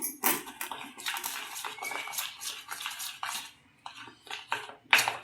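A spoon stirring honey in a small bowl or cup for a home cough remedy, with repeated clinking and scraping against the container in irregular bursts, close and moderately quiet with no talking.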